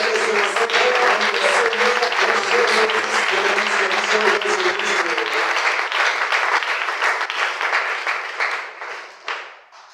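A church congregation applauds together at a Good Friday service, with dense, loud clapping that holds steady for most of the stretch before thinning and fading out near the end. There is no talking.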